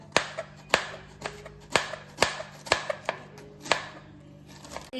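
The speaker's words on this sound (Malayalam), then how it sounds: "ഇങ്ങനെ നീളത്താക്കിയിട്ട് ഇങ്ങനെ കട്ട് ചെയ്യാം" A knife slicing cabbage into long strips on a board, with about ten crisp, evenly spaced chops close by, each a sharp crunchy knock with brief gaps between.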